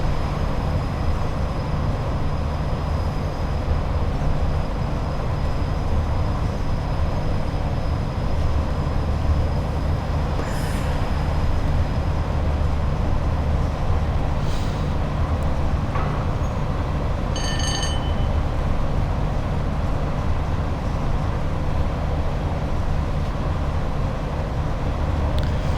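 A Class 87 electric locomotive hauls an intermodal freight on the West Coast Main Line over Shap in Train Sim World 6, giving a steady, loud rolling rumble with brief high squeals and clicks partway through.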